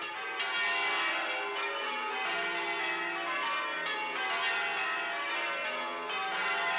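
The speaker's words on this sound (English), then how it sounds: "The bells in Limerick are an integral part of city life" Bells of St Mary's Cathedral, Limerick, ring continuously, bright overlapping peals sustaining with a rich shimmering tone, clear and fairly close with no talking.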